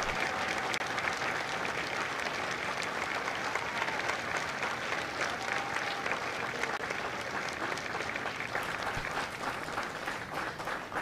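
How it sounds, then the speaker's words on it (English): Sustained audience applause fills a Marine recruit graduation ceremony at MCRD San Diego, a dense, even wash of many hands clapping steadily from moderate distance with no pauses. "Ladies and gentlemen, a round of applause for their dedicated service to Corps and country."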